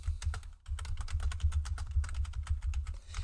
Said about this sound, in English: yes, my keyboard is very loud.